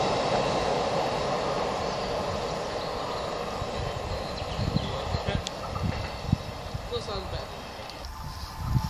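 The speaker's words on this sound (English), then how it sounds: "Virgin service going northbound again." A Virgin train passes northbound at Hartford, a continuous rolling rumble with rhythmic clicks and thumps from the wheels over the rails, fairly close, with a few faint bird calls.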